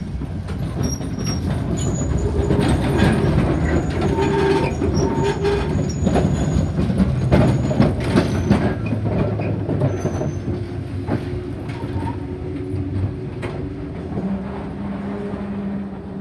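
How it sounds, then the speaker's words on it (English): A Sydney Light Rail breakdown tram, number 141S, rolls into a depot with a steady rumble of rail wheels, scattered clicks and faint squeals. The sound stays loud and continuous throughout, with no talk. "breakdown tram number 141S is entering the depot"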